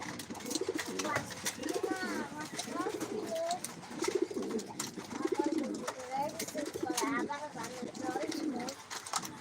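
Several pigeons coo in the afternoon after being let out, their soft rolling calls repeating in overlapping cycles close by, with steady background noise and some talk mixed in.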